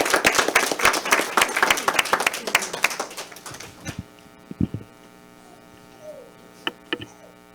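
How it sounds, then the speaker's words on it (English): A burst of applause from a group at a town council meeting, clapping densely for several seconds before tapering off into a low hum with a few scattered sounds. "Let's give them a round of applause"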